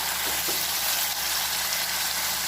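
Masala spices frying in oil in a pan for a banana-flower curry, a loud, dense, continuous sizzle and crackle that fills the whole moment without any voice.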